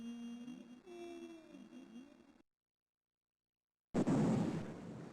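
A flare explosion after-effect in the game Robinson's Requiem: a faint tonal hum, then sudden silence, then a loud rumbling boom that decays slowly.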